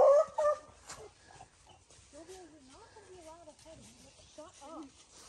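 A hiking dog named Mello on rocky trail near a waterfall gives a high yelp, then a string of soft whimpers and whines, close by and faint, with people talking around it.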